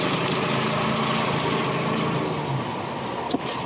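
A car engine with a sticky fuel injector runs steadily and loudly, a constant broadband drone with a brief sharp knock near the end, no voices.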